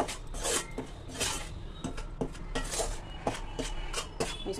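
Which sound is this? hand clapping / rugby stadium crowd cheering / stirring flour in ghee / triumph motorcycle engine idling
stirring flour in ghee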